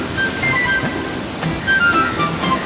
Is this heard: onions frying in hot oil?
no